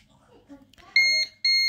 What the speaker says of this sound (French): Voilà, vous avez un petit bip et assez fort pour que même vous l'entendez.